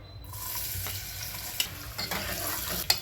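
Onion sizzling in a spoonful of hot oil in a pan for vangyachi bhaji, a steady, moderately quiet crackle with a few sharp spoon clicks and scrapes near the end, no voices.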